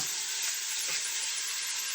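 Beef chuck roast browns in a hot pan with a steady, bright sizzle and hiss, continuous and close, with no voices over it.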